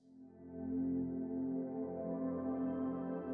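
Fracture Sounds Spotlight Piano 'Low' patch played as a sustained, swelling chord with rich low harmonics, ringing steadily and fairly loud throughout with no talking.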